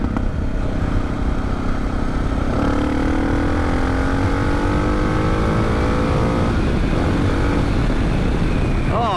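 Suzuki DR650 dual-sport motorcycle accelerating on a freeway, its engine note climbing steadily in pitch for several seconds, heard close from the rider's seat under constant heavy wind roar.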